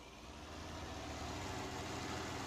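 An old New Holland Ford tractor engine in Farming Simulator 19 idles with a loud, steady low rumble and a broad noisy wash, close and constant throughout with no talking.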